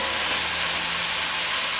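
Zucchini, green beans and parsnip dropped into a hot pot of onions, carrots and celery, giving a steady, close, continuous sizzle with no talking.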